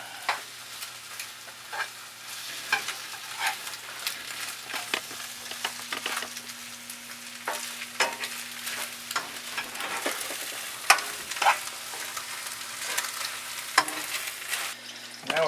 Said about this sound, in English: Now we're frying this up a little bit